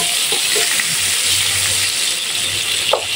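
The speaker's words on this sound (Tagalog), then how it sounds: "Magigisa lang tayo ng isang malaking onion slice." A large onion slice sautés in hot oil in a pan, giving a steady close sizzle and hiss that runs without a break, with a few faint clinks of utensils.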